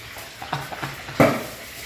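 Chicken feet stirred in a pan with a few scraping strokes and a brief popping, sizzling burst of frying, close by and moderately loud, with no talking.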